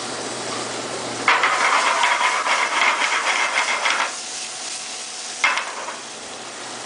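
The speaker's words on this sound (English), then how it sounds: "It's got a little bit of vinegar on these capers, so you're going to see it flare up just a little bit" Capers with a little vinegar dropped into a hot pan, bursting into a loud, steady sizzle that lasts a few seconds, then fades and flares up again briefly, all close and without talk.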